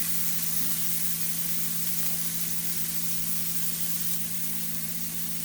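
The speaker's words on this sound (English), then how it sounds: "So we're going to let those peppers cook. Nice and sizzly." Peppers sizzle steadily in a hot pan for a paleo hash, a constant close hiss with a low hum underneath and no voices.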